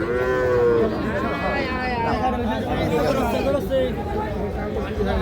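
Young bull calves lowing repeatedly amid a busy Ambari cattle market, several bleating moos overlapping with a steady crowd murmur and nearby chatter.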